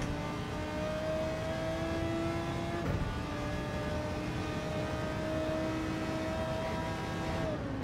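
Race car engine in Gran Turismo 7 holding a steady high drone, with a brief dip near the middle as it brakes and rolls off, then rising again under power, alone without talk.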